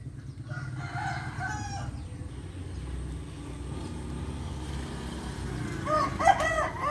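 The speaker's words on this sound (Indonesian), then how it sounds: "Tuh ayam berkokok." A rooster crows at a distance near the end, partly buried under steady low rumbling background noise.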